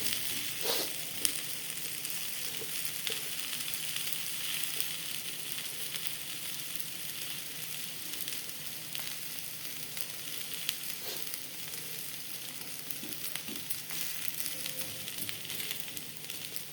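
A pesarattu, a moong dal dosa cooked with plenty of oil, sizzles on a pan. The sound is a steady, bright crackle that runs close and even for the whole stretch, with occasional small pops and no talk over it.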